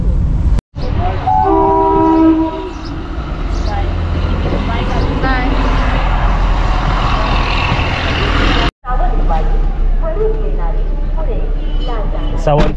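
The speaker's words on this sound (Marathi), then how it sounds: "सावंतवाडीवरून येणारी पुणे जाणारी स्पेशल ट्रेन." A Sawantwadi-to-Pune special passenger train roars past close by, its loud horn sounding in long sustained blasts early on over a continuous heavy rumble of wheels and cars that fills the whole stretch.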